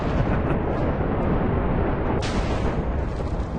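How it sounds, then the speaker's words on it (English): A Minecraft explosion during the Ender Dragon fight roars as a dense, sustained blast of noise, loud and close for the whole stretch, with a sharper burst flaring near the end. "And that was the explosion, so I believe we have a dragon."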